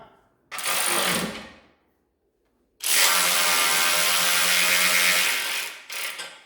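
A ratchet tightens 5/16 flange locking nuts on the chute cover of a Ferris Z1 36-inch mower. Two loud, close bursts of rapid clicking are separated by a silent pause, with a short third burst at the end.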